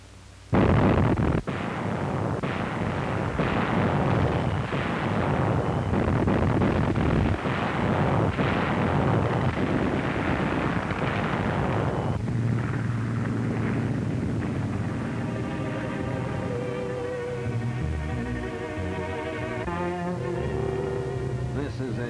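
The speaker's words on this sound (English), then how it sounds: "Allied guns blasted at 0 hour." Allied naval and artillery guns pound the coast at the D-Day landing, a dense, roaring barrage of blasts and rumbling booms that continues steadily, loud and close, with a faint voice in the background near the end.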